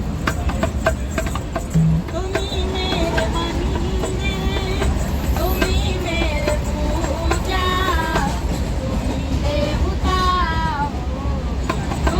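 Inside a moving passenger train, a steady low rumble runs throughout while voices, some with a sung, melodic quality, rise over it close by.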